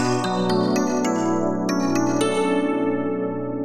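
Bright, bell-like FM electric piano notes sampled from a Yamaha TX816, eight layered DX7s, with sharp metallic attacks, ringing chords that shimmer and sustain together, played alone at moderate volume.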